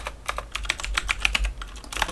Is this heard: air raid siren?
no